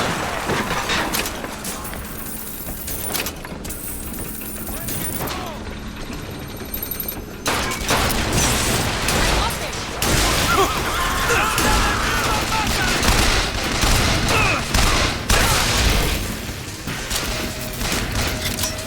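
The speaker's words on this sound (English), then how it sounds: "I'm using the machine gun because it's got a lot of bullets and seems decent." Machine gun fire in Bioshock Infinite: rapid, dense bursts of automatic gunfire over busy game combat noise, loud and continuous through most of the stretch.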